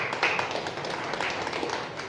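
A church congregation claps steadily, a dense patter of many hands heard at moderate distance, continuous for the whole short stretch.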